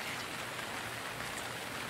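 Rain pours continuously in the adventure game Gemini Rue, a soft, even wash of hiss with no distinct drops standing out, moderately quiet and steady with no speech over it.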